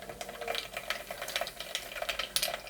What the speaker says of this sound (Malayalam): എണ്ണ ചൂടായി വരുന്നു, കടുക് പൊട്ടി വരുന്നു.